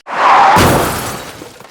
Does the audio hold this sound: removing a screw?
no